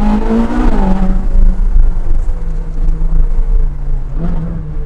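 A Ferrari 458 Speciale's naturally aspirated V8 drives on the road, loud and close, its engine note dropping and settling into a steady drone before rising again near the end.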